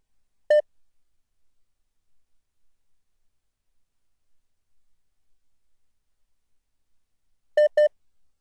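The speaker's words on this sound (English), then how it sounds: "please hit *6 to unmute your line and ask Faisal your question now." Telephone keypad tones from pressing *6 to unmute a conference line: one short beep, a long silence, then two quick beeps close together, clear against a nearly silent background.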